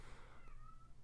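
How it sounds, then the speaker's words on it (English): A single drawn-out meow from a house cat at a door, rising then trailing off over about a second, heard at a moderate distance over a faint room hum. "She like meowed at the door"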